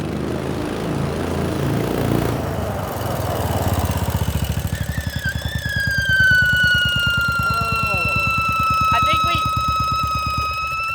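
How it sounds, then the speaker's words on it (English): A 390cc engine swapped into a Little Tikes Crazy Coupe runs loud and close, its drive belt letting out a long rising then falling high-pitched screech over the steady engine pulse, with a few brief chirps near the end. "I forgot how bad that belt screeches"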